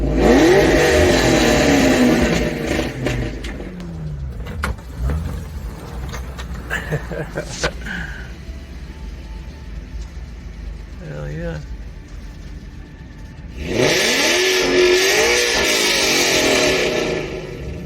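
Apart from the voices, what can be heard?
loud car engine revving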